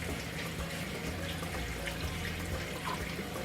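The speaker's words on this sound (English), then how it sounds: "Here comes the vinegar." Vinegar pours into a pot for a Dominican sancocho soup, a continuous close splashing liquid stream with no talking.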